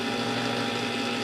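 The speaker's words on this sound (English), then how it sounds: "this is a dump and go in the blender style salsa" A countertop blender runs steadily, whirring through diced tomatoes and green chilies for a dump-and-go salsa, loud and close with a constant motor drone and no talking.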